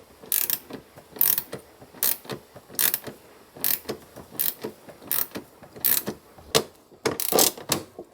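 A ratchet wrench clicks in quick, repeated bursts while electrical connections are torqued aboard a rebuilt wooden sailboat, about a dozen close, crisp ratcheting runs separated by short pauses.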